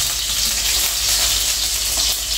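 Seasoning for ackee and corned pork fries in a pot, a loud, close, continuous sizzling hiss with no talk.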